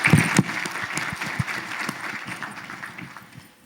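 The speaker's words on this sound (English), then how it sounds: "What about we give them a round of applause?" An audience applauds at a regional meeting, a dense burst of clapping that is loudest at the start and then gradually thins and fades over a few seconds.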